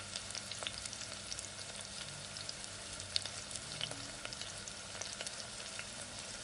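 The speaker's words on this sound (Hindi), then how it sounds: "अब हम इन्हें फ्राई कर लेंगे" Chocolate donuts deep-fry in oil on a low to medium flame with a steady crackling sizzle, dotted with small sharp pops and light bubbling throughout.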